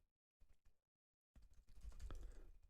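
Typing on a computer keyboard comes in two short bursts of key clicks, then a denser, louder run of keystrokes, close and quiet with no talk.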